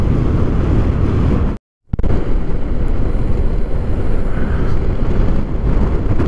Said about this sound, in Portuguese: Olha que ventania contra.